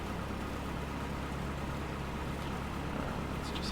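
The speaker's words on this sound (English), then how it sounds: "as the engine warms up, the RPM will increase, and you'll hear the tone of the engine increase as well" A Cessna 172 piston engine runs steadily in the A2A flight simulator game, a constant droning hum with a low throbbing tone, even and close throughout with no talk.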